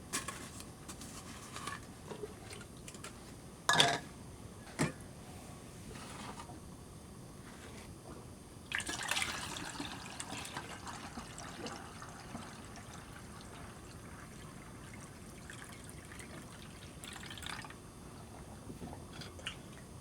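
Boiled and cooled water poured into yeast slurry to dilute it for homebrewing gives a faint, intermittent trickle and splash with a few sharper clinks, heard close and quiet without speech.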